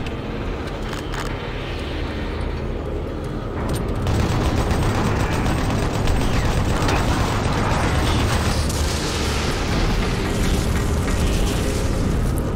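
A player fires their own weapons in the shooter game Doom 3: Resurrection of Evil, making loud, dense bursts of gunfire and explosive booms with mechanical clatter. The firing gets heavier partway through and continues almost without a break.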